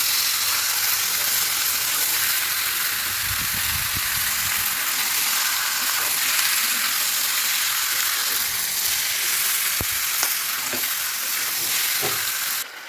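Country chicken coated in mustard oil, turmeric and salt fries in a wok with a loud, constant sizzle, low stirring thuds early on and a few sharp scrapes near the end.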